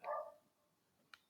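One short, fairly loud bark from a little dog, then quiet with a faint click near the end. Nobody is talking.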